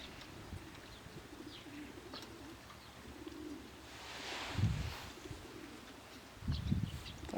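Young pigeons coo softly in a loft, with a few low, faint coos and light chirps over quiet background hiss.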